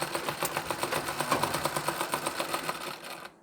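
A sewing machine runs steadily, laying fine stitches along the folded edge of a small child's blouse. Its close, rapid needle clatter keeps an even rhythm for about three seconds, then stops.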